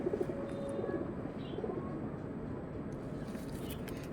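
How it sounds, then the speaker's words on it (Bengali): Pigeons coo softly at a bird seller's sale of tournament-quality birds, low throaty calls rising early and again mid-clip over a steady murmur of background noise. "এই হচ্ছে মাদি পায়রা, দেখুন।"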